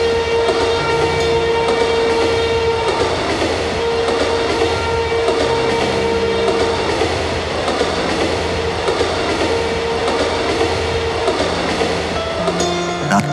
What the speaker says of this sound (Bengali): রাত্রিরের ট্রেন।